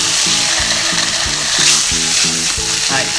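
Tofu garlic steak fries loudly in a pan, a close, constant crackling sizzle with no voices over it.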